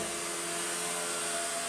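Electric window regulator motor on a Ford Transit MK7 van runs with a steady whirring drone that stops with a brief thunk at the end.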